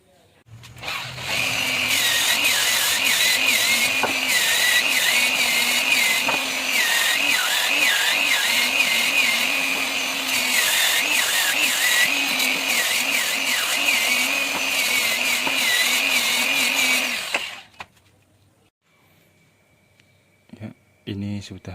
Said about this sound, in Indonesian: Sesudah kita potong semua, kita rapikan dengan mesin amplas,